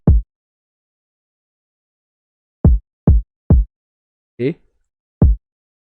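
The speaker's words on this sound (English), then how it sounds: "when the first kick drop, it takes a little bit time before the next ones will come" Sparse, punchy drill-beat kick drums made in FL Studio: one hit, a long gap, then a quick cluster of three, a brief tonal thump, and a final kick.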